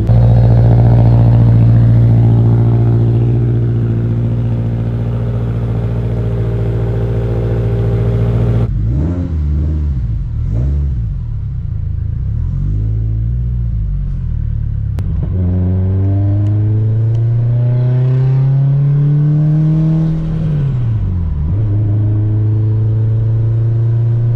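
A Subaru STi, running poorly in an East Coast climate, drives with a loud, close engine note that idles low, then revs and pulls through rising and falling gear sweeps, with no talk.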